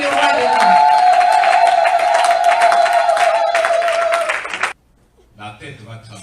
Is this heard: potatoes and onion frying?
no